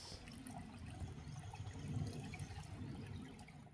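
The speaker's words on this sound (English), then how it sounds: "Next to that tree, you can see water flowing." Water flows and gurgles into a deep hole beside a tree along a trail, a faint, steady trickling wash with no talking.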